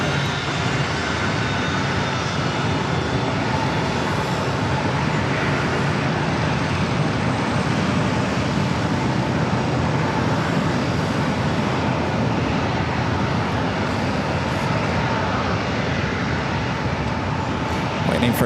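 A KLM heavy jet rolls on the single runway at San Diego airport, producing a loud, steady broadband engine roar that holds without a break throughout, with voices faintly audible beneath.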